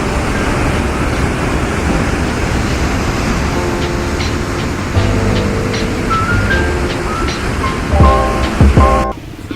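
An Icelandic waterfall roars loud and steady up close, a broad rushing wash of falling water with wind buffeting the microphone and faint tonal sounds toward the end.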